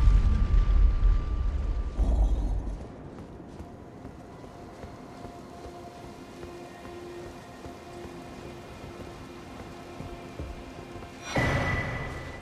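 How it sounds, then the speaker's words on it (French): Haima's Cannon, an explosive magic projectile spell in the video game Elden Ring, bursts loudly at the start, fades into a low rumble, then erupts again in a second blast near the end. "Lance un projectile magique explosif dont la trajectoire décrit un arc de cercle."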